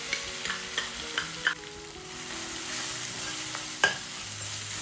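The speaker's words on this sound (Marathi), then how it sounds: "वाटणमध्ये ना चमच्यासारखा फिरवत राहायचा म्हणजे ते खाली जळणार नाही" Ground masala paste with cumin and curry leaves sizzles in a hot pan while a spoon stirs it, giving scraping clicks over a steady frying hiss, close and without voices.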